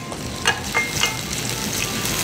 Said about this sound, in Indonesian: Ini kita gorengnya sampai bener-bener kering supaya aromanya lebih enak lagi dan nggak bau mentah dari cabenya